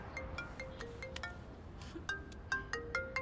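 A mobile phone ringtone plays a bright electronic melody of short beeping notes in a quiet indoor scene of a city romance drama. It starts softly and grows a little louder toward the end.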